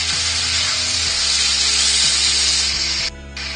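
A sycamore platter spins on a woodturning lathe while being burnished, giving a loud, continuous motor whir with a rough friction hiss that dips briefly near the end; no one speaks.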